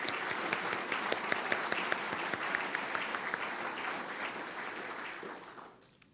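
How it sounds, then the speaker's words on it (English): Steady audience applause at an annual naval forum meeting, dense and sustained for several seconds before tapering off near the end, with no talking over it. "So please join me in a round of applause for Lieutenant Misso in his absence."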